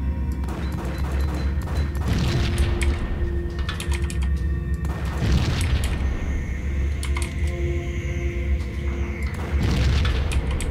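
Proximity mines in Max Payne being shot and going off, giving repeated heavy booms and crashes with sharp rattling impacts between them. Dense game noise continues throughout, with a low steady rumble underneath.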